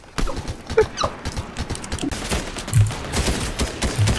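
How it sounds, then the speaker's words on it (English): Video game gunfire crackles in rapid, uneven bursts of shots, fairly faint and scattered across a few seconds, with no talking over it. "Oh, I shouldn't shoot Frank"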